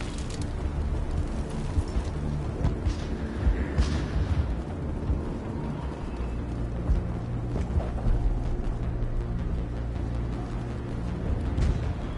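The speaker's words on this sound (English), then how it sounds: "How is a woman supposed to think with guns going off all around?" Sustained gunfire and explosions in the Mass Effect video game, a dense continuous barrage of bursts and booms with low rumble, steady and loud throughout without pauses.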